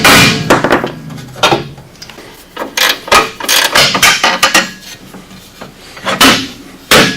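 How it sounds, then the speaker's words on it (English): A hammer taps the lower A-arm of a 2017 Ranger to separate it from the hub, producing loud, close metallic knocks and clangs in irregular clusters of blows over several seconds, with no speech. "you should be able to tap the lower A-arm and separate it from the hub"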